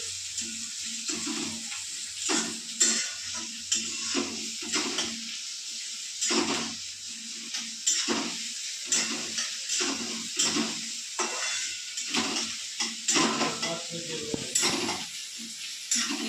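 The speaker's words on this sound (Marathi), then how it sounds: "खूपच तेल तापलं का ते जिरे मोहरी जळून जातील. कांदा टाकू." Onion dropped into hot oil with cumin and mustard seeds, a soft continuous sizzle broken by repeated spatula stirs and scrapes against the pan; fairly quiet, no talking.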